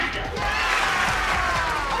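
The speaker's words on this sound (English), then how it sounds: "So when I say the name of your city, clap really loud so you let me know if you're here." A city's name gets a response from an audience at a community gathering: sustained, fairly loud crowd noise with cheering and voices throughout, and clapping indistinct within the roar.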